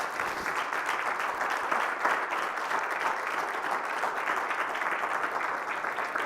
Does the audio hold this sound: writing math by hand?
no